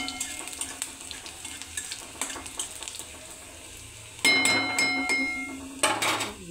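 Bitter gourd sautés with garlic and cumin in a little oil in a pan, giving a soft sizzle with spoon clinks and stirring scrapes that swell into louder, busier frying.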